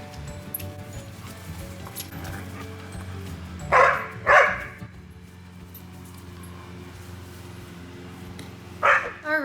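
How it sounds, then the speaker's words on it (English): Puppies at play bark and yip in a garden, a few sharp barks in bursts over steady background noise. "and having puppy playtime."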